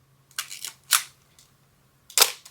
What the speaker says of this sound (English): Plus the shutter sound.